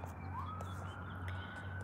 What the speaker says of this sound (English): Where are they going? Ambulances and stuff.